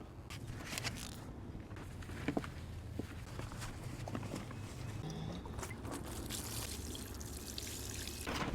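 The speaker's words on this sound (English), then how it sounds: "The instructions tell me to add 1 gallon of water, and that will expand into roughly 8 cups of a fluffy base." A gallon of water is poured over a compressed coco coir brick as it swells into a fluffy growing mix, giving a steady, close pouring and trickling with faint knocks.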